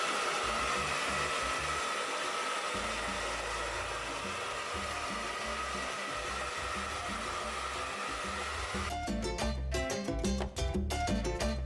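A hair dryer on medium heat blows in a steady, loud whoosh for the whole stretch, then sputters and flutters unevenly toward the end as it is moved or switched.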